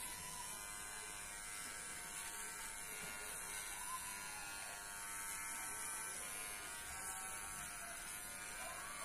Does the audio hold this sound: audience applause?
no